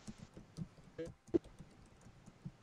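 Quiet computer keyboard typing, a scatter of soft irregular key clicks with one sharper tap in the middle, faint and close over low background noise.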